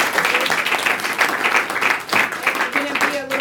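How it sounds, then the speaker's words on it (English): An audience applauds a panelist at a water safety panel, a full burst of clapping for several seconds with faint voices and a few calls underneath. "give our second panelist, Jacqueline Chan, a big round of applause."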